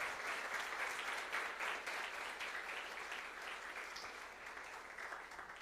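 A church congregation applauding, a sustained wash of many hands clapping heard from a distance, fairly faint and steady, slowly easing off.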